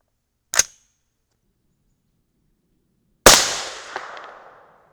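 A .223 Rem rifle fires a single shot of a 65gr Cutting Edge MTH load over 21.8 grains of IMR 8208 XBR. A sharp metallic click comes first, then the loud report with a rolling echo that fades over about a second.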